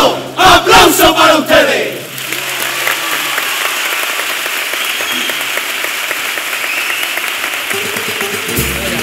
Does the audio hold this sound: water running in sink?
no